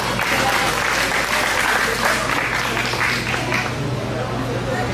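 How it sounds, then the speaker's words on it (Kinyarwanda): Guests at a graduation party clap loudly and steadily for papa Nicole, a close, dense burst of applause with voices chattering underneath. "amashyi menshi cyane kuri papa Nicole"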